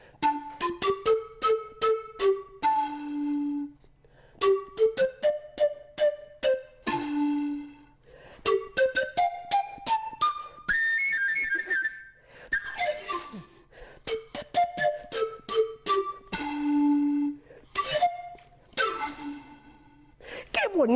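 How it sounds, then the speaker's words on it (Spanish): An Andean antara panpipe plays short breathy phrases that step up to high notes and down to low ones, with pauses between, in a quiet home setting and heard alone. "Vamos a bailar y a movernos con el sonido de la antara."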